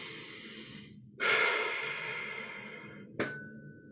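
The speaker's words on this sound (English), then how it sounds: "Take a breath." A person in a meditation session takes a long, deep inhale, followed by a slower release of breath. The breath sounds close and soft against a quiet background, with a brief sharp catch near the end.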